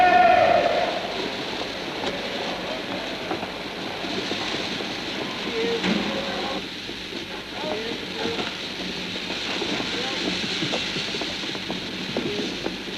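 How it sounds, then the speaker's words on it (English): Train running on rails, a rumbling roll with rhythmic clickety-clack of wheels over rail joints, steady and moderately loud, with faint background chatter. "The trains had to be kept running all the time"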